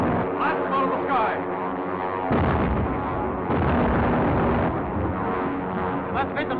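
Gunfire aimed at an aircraft in a 1937 Dick Tracy serial, heard as a dense, continuous roar of blasts and pops layered with engine drone and brief shouting, loud and close with the muffled, narrow sound of an old recording.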